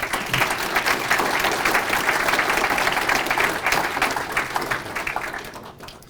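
An audience at a fire chief and firefighters' swearing-in ceremony keeps up a steady round of applause, thick and even throughout, then thins out and fades over the last second.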